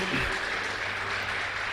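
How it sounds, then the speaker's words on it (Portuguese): Congregation applauding in a church worship service, a steady wash of clapping with a faint voice at the start. "Vamos aplaudir e glorificar o nome do Senhor."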